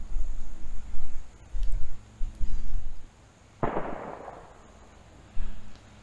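Distant gunfire from old ammunition being shot off near a campfire cooking spot, a single sharp far-off report with a long rolling echo under outdoor background noise and scattered handling sounds.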